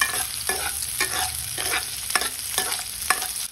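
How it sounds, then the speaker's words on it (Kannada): Chopped medium-size onion frying in oil in a hot pan, a steady sizzle broken by regular scraping stir strokes about every half second, close and moderately loud with no talk. "ಈರುಳ್ಳಿ ಹಾಕ್ತಾ ಇದೀನಿ ಈರುಳ್ಳಿ ಚೆನ್ನಾಗಿ ಗೋಲ್ಡನ್ ಫ್ರೈ ಆಗಬೇಕು"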